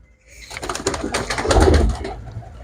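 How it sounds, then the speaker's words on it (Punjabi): Pigeons coo in a short, close burst of soft, throaty calls that swell toward the middle and then fade. "6 ਕਬੂਤਰ ਬਈ ਇਹ ਉੱਡਣ ਵਾਲੇ"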